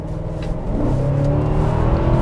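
A Mercedes-Benz W210 E60 AMG with a 6-liter V8 revs hard, a loud close engine note climbing steadily in pitch as it accelerates, with no talking.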